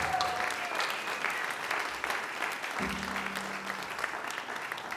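Concert audience applauding a performer, a broad, continuous wash of clapping from a full room, with a brief tonal sound in the background partway through.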